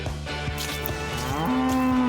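In a Lego cartoon, a cow lets out one long, close, sustained moo that starts partway through and swells over a rhythmic musical bed.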